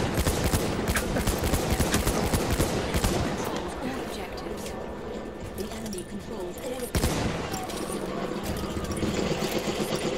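Dense, continuous rapid gunfire from the video game Battlefield 1, with bursts of automatic fire and explosions, loud and close, and players talking over it.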